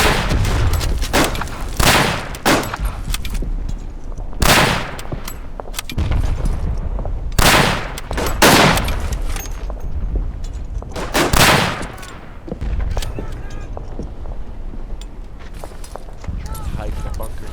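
Gunfire rings out in the World War I shooter Verdun: repeated loud rifle cracks and bursts, some close and some distant, spread irregularly across the scene with voices talking over the battle.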